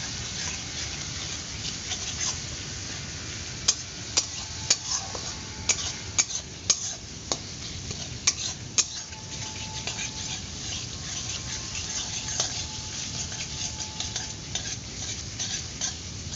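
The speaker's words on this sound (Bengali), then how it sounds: "এই পেঁয়াজ আদা রসুনটাকে খুব ভালো করে এখন কষাচ্ছি।" Crushed ginger, garlic and onion sizzle in a pan while a spatula scrapes and taps the metal in irregular clicks, a steady close frying hiss throughout with no talking.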